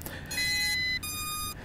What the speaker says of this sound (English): that other sound we heard is just a connection of the controller to the drone